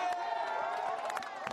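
A dense roadside crowd cheers and shouts continuously at the Tour of Flanders 2010 cycling race, a steady wash of voices and whoops heard from nearby, with scattered claps rising through it.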